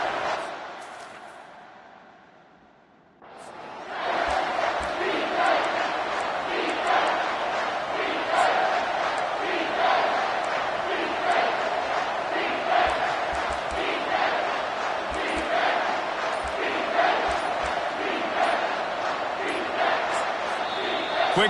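A stadium crowd in the NCAA 25 college football video game, at a Kentucky game, swells from near quiet into a loud, sustained roar that holds steady with rippling surges.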